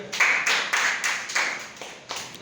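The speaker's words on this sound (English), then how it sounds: "Good answer, clapping for Arya." A classroom of students claps for a classmate who gave a good answer, with about eight distinct group claps in a steady rhythm, fairly close and loud, tapering slightly toward the end.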